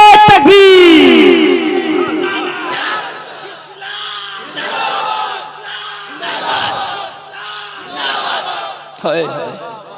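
A large crowd at a religious gathering roars slogans in unison, beginning with a loud swell and then answering in repeated rhythmic chants that rise and fall several times.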